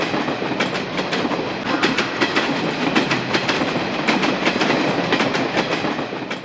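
A passenger train running on rails, heard from inside a second-class carriage: a loud, continuous rumble with rhythmic wheel clatter repeating steadily throughout.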